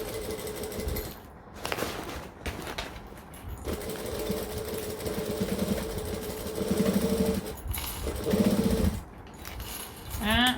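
A sewing machine stitches binding down on an overnight bag made from a hacked Raggabrash pattern, a loud close motor whir in bursts of varying speed broken by short stops, no talking.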